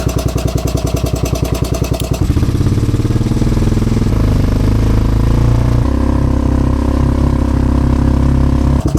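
A Honda engine on a Givilo 22.4-inch brush trimmer runs loud and close, with a rapid, even putter at first, then a deeper, steadier drone as it settles into running, with no talk.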